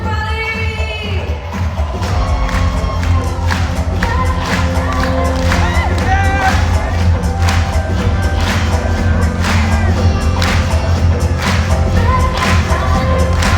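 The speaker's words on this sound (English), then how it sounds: "Clap your hands, everybody!" A live concert crowd claps in rhythm to the music, with loud regular hand claps and cheering blended into the band's steady beat for the whole stretch.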